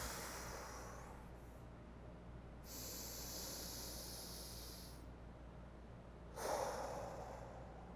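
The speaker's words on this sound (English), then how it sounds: "when you inhale, think about trying to expand your hands out with every inhale." Slow, deep breaths taken during a warmup breathing drill, with the rib cage expanding on each inhale: two long, airy, hissing breaths a few seconds apart, soft and close, with no talking.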